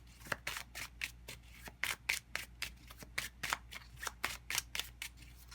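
Tarot cards being shuffled by hand, a steady run of crisp riffling bursts repeating roughly twice a second, close and fairly quiet with no talking.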